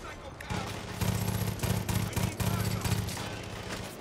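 Rapid bursts of automatic gunfire come from shooting at enemies in the Far Cry 5 video game, sounding as several loud, close volleys in quick succession.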